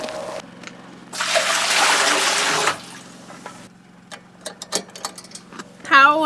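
Water pours in a steady rushing stream for about a second and a half into concrete mix at an off-grid cabin foundation build, followed by scattered splashes and clinks and brief voices.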